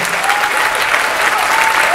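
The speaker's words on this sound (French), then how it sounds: "pour applaudir l'équipe du film Grave" An audience applauds at a film festival closing ceremony, dense steady clapping filling the hall throughout.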